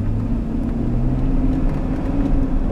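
A 1999 GMC pickup truck driving, heard as a steady, loud low engine and road rumble from inside the cab, continuous and without talk.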